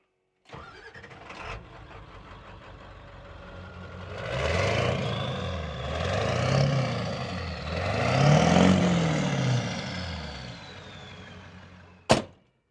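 A Ford F-250 dentside pickup with a 7.3 engine cranks over and fires, then settles into a loud, lumpy running note that swells a few times before a sharp thunk cuts it off near the end.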